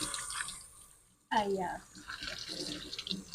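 Water runs from a tap outdoors during patio cleaning, a steady hiss that cuts out briefly then resumes, with a voice talking over it.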